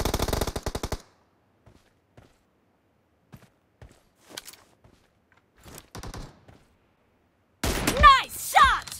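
Gunfire in the PUBG Mobile video game, with a fast automatic burst at the start and another loud volley near the end, separated by quieter scattered footsteps and small clicks.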